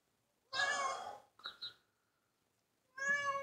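A cat meows close up, two drawn-out cries separated by a brief pair of short chirps in otherwise quiet surroundings.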